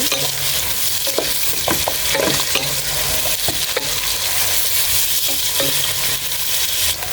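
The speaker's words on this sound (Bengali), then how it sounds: "আমি এখানে পেঁয়াজ কুচি দিয়ে দিচ্ছি আমি এখানে মরিচ দিয়ে দিচ্ছি কাঁচা মরিচ আর সবগুলো এখন নেড়ে দিচ্ছি" Chopped onion and green chilies fry in mustard oil in a wok, stirred steadily. A constant close sizzle is broken by irregular scrapes and clinks of the stirring utensil, with no voices.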